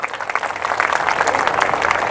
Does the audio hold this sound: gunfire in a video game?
no